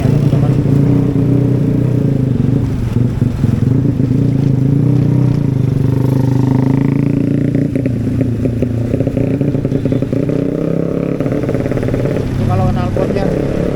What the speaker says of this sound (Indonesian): motor suaranya teman-teman.